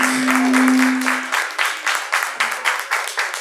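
A ballroom event audience applauds, a rapid run of claps that begins thick and blended, then thins into rhythmic, distinct slaps. A brief sustained tone sounds at the start.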